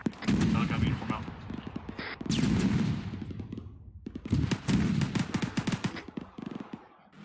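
ArmA 3 combat gameplay with dense bursts of automatic gunfire and booming shots in rapid clusters, loud and continuous with a brief lull, while voices speak over the radio.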